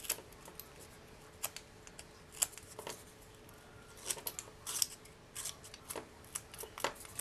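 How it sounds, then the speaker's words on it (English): Scraping and ticking of a Stampin' Up distressing tool run along paper edges, with faint, close, irregular little rasps and clicks. "I want to do a little bit of distressing on the heart with my distressing tool"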